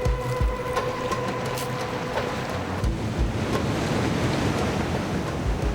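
Ocean waves breaking against rocks on the Portuguese coast where barnacles are harvested, a loud continuous wash of surf and spray with heavier low rumbling surges, no voices.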